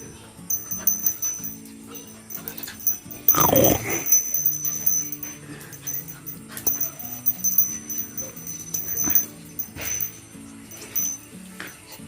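A dog whimpering and yipping nearby in short bursts, with one loud sharp outburst early on, over faint background sounds.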